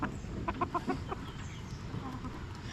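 Backyard flock of chickens, three roosters and two hens, clucking in a short burst of close, repeated calls over a steady outdoor background.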